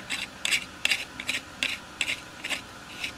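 Shovel handle of an RM RICOMAX metal detector's dig tool being screwed in, giving a series of short, close ratcheting clicks in an uneven rhythm, about eight quick turns.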